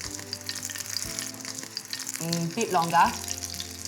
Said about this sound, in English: I'm using a light oil like a vegetable or a canola oil because we're shallow frying